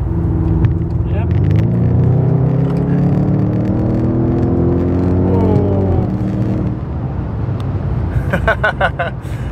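A 750 hp Audi S8 D4 with a Milltek exhaust pulls hard from inside the cabin, its engine note rising through the gears in steady sweeps while people talk over it.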